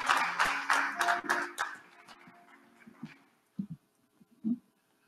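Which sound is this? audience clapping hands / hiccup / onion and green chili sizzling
audience clapping hands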